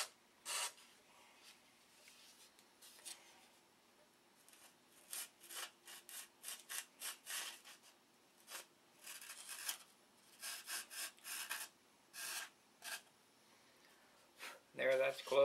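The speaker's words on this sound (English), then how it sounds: "The sanding is for you, Shug. You wanted to see me sand." Hand sanding on wood during a CLC boat build, heard as bursts of short scraping strokes in irregular clusters, fairly faint and close, with pauses between sets and a brief voice near the end.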